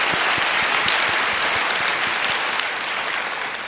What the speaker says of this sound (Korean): 우리 다시 한번 하나님께 영광의 박수를 올리십시다.